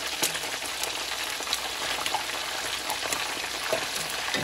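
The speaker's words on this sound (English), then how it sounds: "They have to fry for a while because it takes a little time to get them all to be crispy." Chicken skin cracklings (chicharrón) frying in hot oil, a steady dense crackle and sizzle with scattered pops, close and continuous, no voices.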